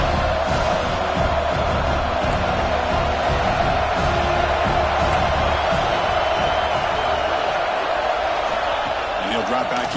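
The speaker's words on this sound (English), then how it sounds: "the crowd coming to life here, trying to help this defense down in the red zone." A stadium crowd at a football game roars in a dense, steady wall of noise near the red zone, loud and sustained throughout the stretch with no break.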